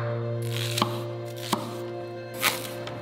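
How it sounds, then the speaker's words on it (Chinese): Chopping washed yamato yam into chunks on a board, three distinct knife strikes spaced apart over a steady low hum, close and clear with no talk. "并将洗净的大和芋切成块状"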